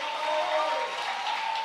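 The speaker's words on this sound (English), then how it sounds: "Can y'all clap for our minister of music and director of music" A church congregation claps for its minister of music and director of music, a steady, fairly light wash of applause with a sustained tone running underneath.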